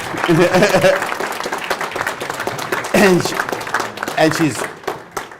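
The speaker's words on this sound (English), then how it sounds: "Give Jim a round of applause, gnarly." Steady applause and clapping from a crowd fills the whole stretch, with voices and cheers mixed in.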